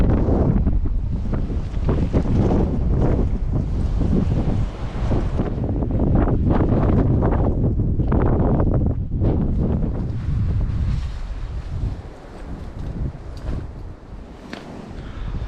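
Strong wind buffets the microphone on an exposed coastal walk from Land's End to John o'Groats, a loud continuous roaring rush that eases slightly toward the end, with no voices.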